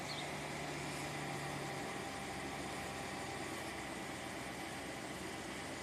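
A Ram truck engine idles steadily after starting, a continuous even hum and vibration at constant loudness, close and unbroken, with no talk over it.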